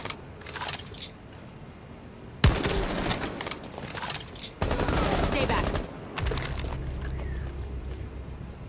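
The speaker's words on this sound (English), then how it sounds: "someone's shooting through this window" Bursts of automatic gunfire fired through a window in the tactical shooter Rainbow Six Siege, a Favela map match, loud rattling volleys in several bursts separated by short pauses, with faint game sounds between.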